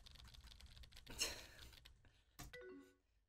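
In Emily is Away Too, computer keyboard keys click quietly in a quick patter, broken by a brighter chime-like tone and then a short final flurry of taps.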